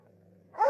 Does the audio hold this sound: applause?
no